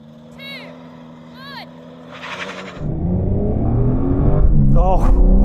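A BMW M3 Touring and an Audi RS6 launch side by side in a drag race, engines swelling from a low rumble into loud, rising acceleration, with people talking over the start.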